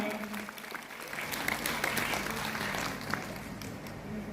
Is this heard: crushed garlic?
no